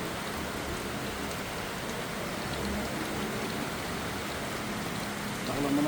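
Steady rain falling around a house, a dense continuous patter that stays even throughout, slightly swelling near the end, with no voices.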